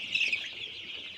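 Chickens on a poultry farm raise a continuous, close chorus of high chirps and peeps, dense and unbroken.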